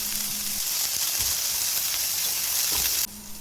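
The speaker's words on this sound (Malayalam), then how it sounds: "അതും കൂടി ചേർത്തിട്ട് നന്നായിട്ട് വഴറ്റി കൊടുക്കാം." Frozen peas sautéing in a pan for a Karnataka-style khara bath upma: a steady loud sizzle and hiss of frying with a few stirring knocks, easing off near the end.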